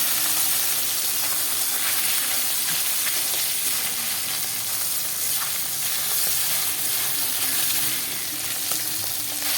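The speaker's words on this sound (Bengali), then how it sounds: "তেলের মধ্যে দিয়ে মাছগুলো আমি ভেজে নেবো" Pakal (eel) fish sizzles and crackles steadily in hot oil, a continuous bright hiss with scattered pops, close and unbroken throughout.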